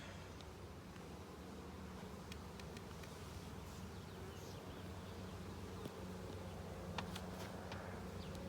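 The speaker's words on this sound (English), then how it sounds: "Let the bees move out of the way." Dense, continuous buzzing of many honey bees around an open hive during an inspection, steady and close throughout with a few faint clicks, no talking.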